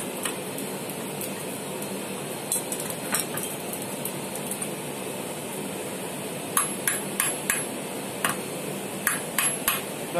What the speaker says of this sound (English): I'm going to punch these spots here with this punch